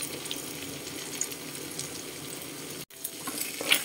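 An egg goes into browned ground pork in a frying pan: a steady close sizzle, then a brief cut to silence and a fresh sizzling burst.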